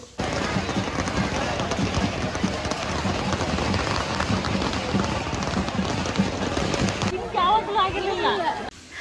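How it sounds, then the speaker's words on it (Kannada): Rain falls during a temple chariot festival in Kanchugal, Kaduru, a dense continuous patter and rush heard outdoors, with people's voices and crowd noise mixed throughout. "ಕರೆಕ್ಟಾಗಿ ತೇರಿಳಿಯೋ ಟೈಮಲ್ಲೇ ಮಳೆ ಬಂದ್ಬಿಡ್ತು"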